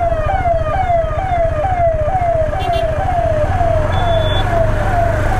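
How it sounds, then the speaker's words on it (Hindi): A loud wailing ambulance siren sweeps repeatedly in fast, regular rises and falls over a rumbling engine, close by and continuous. "अभी एम्बुलेंस आई है पिक करने के लिए"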